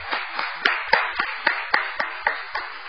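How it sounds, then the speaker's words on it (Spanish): Audience applause for a speaker at a lecture on local bridges comes as about ten crisp, evenly spaced claps in a steady rhythm. The claps are sharp, fairly near and stand alone with no voices. "un aplauso para Adolfo y comenzamos"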